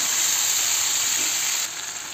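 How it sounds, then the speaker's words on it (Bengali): Malabar spinach leaves added to frying mixed vegetables in a pan give a steady, bright sizzling hiss that drops slightly in level near the end, with no talking. "পুঁই শাকের পাতাগুলো দিয়ে আরেকটু নেড়ে চেড়ে ভেজে নেব"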